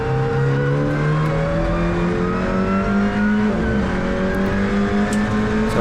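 An Alpine A110 Cup race car roars loudly up through its gears at Nogaro, with a high whine from its sequential straight-cut gearbox layered over the engine, steady and close.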